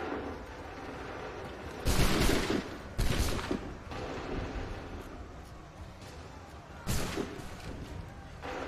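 A volley of musket fire rings out in Assassin's Creed III, with several loud cracking bursts at irregular intervals over a continuous noisy battlefield bed and light wind.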